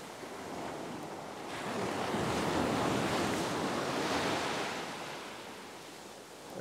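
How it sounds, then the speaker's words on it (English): Ocean surf on a winter fishing beach, a wave surging in with a broad rushing roar that builds, peaks and slowly recedes, close and loud with some wind buffeting the microphone. "Get out of the way of this wave. These waves have got a fair bit of force."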